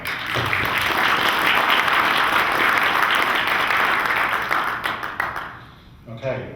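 Sustained audience applause fills a seminar room, dense and steady clapping from many hands for about five seconds before thinning out and fading, with a brief voice at the end.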